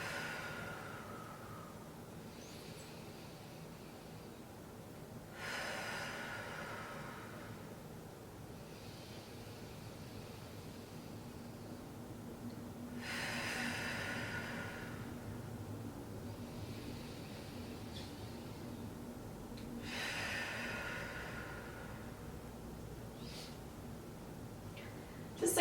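Deep breathing during a morning stretch: three slow, airy breaths, each a soft rushing exhale several seconds long, spaced apart over a quiet room hum with no talking.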